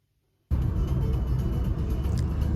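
A car on the road toward Odesa, a sudden start after brief silence into a loud, steady engine and road rumble heard from inside.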